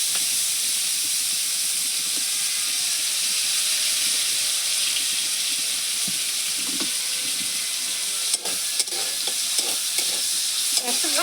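Chopped onions hitting hot oil with tempering spices for a fish curry, a loud dense sizzle and hiss filling the scene, with occasional clinks and stirring scrapes near the end, no talk.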